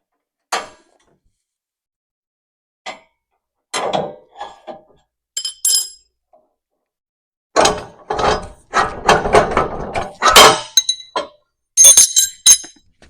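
Metal locking pins clink and rattle as they are pulled free from the lift control arm bracket of a John Deere X590 lawn tractor during snow blower removal. Sharp close clicks come in scattered bursts, busier toward the end, between stretches of silence.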